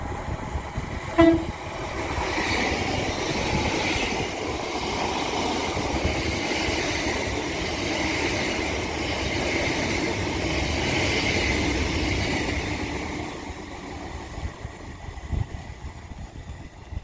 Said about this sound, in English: Now passing through is going to be another Avanti West Coast Class 807 for London Euston.